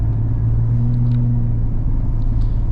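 A 1997 Jeep XJ Cherokee engine pulls under acceleration, a steady, loud low rumble and drone heard from inside the cabin with no pauses.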